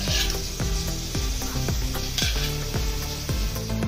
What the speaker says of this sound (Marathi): कढई चांगली आपली तापली आहे. त्यामध्ये मी हे 2 चमचे तेल सोडते.